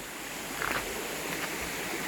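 Değirmen Dere stream flowing outdoors, a continuous broadband rush of moving water, steady and fairly close, with no voices over it.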